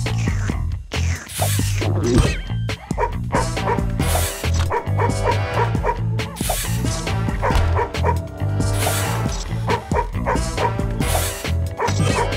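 Cartoon dog barking and yipping in the PC game Madagascar: Escape 2 Africa, repeated loud barks with whimpers over game music, no talk.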